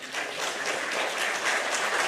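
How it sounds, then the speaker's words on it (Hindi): Brisk audience applause at a government beneficiaries' gathering, a continuous wash of many hands clapping, moderately loud and unbroken, with no speech. "जोरदार तालियां बजती रहें।"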